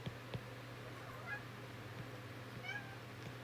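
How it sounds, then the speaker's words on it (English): A cat meows several times, short mewing calls over a low steady hum, fairly quiet and spread across the clip. "My cat is meowing at me."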